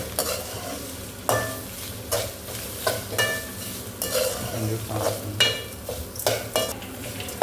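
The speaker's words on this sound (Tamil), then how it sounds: "இதுக்கு வந்து தேங்காய் போட்டு அதை கொஞ்சம் வறுத்து எடுத்துக்கலாம்" Grated coconut is roasted and stirred in a pan for a ground-paste tamarind kulambu, with a steady dry sizzle and frequent close scraping strokes of a spoon against the pan at an uneven rhythm.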